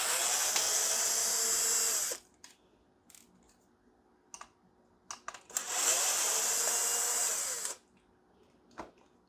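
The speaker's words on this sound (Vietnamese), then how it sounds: "Bạn tháo hai ốc này ra." An electric screwdriver backs out two screws from an HP CF279A toner cartridge, two sustained whirring bursts of several seconds each, separated and followed by small clicks and taps of parts being handled.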